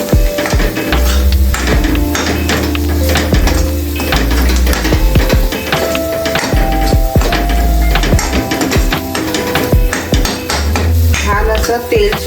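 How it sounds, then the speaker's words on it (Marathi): Onion and coconut masala paste fries in a pan for a prawn curry, the steady sizzle buried under loud, rhythmic clanks and scrapes of a utensil against the pan, close and busy throughout. "आता मी जे कांदा खोबऱ्याचं वाटण केलेलं ते वाटण मी याच्यामध्ये टाकणार आहे आणि छान असं फ्राय करून घेणार आहे"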